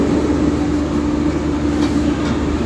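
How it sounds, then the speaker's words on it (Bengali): The 12318 Akal Takht Express rolls onto platform 5 at Kolkata station, a loud, steady, close rumble of heavy carriages with a low droning hum underneath. "ট্রেন অনেক আগে কিন্তু ট্রেন ঢুকে গেছে"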